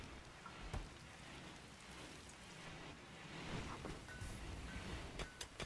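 Rain falls steadily in the video game Rimworld, a soft continuous hiss of drops with a few sharper taps and pops scattered through it.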